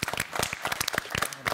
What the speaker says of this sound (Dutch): Een applaus.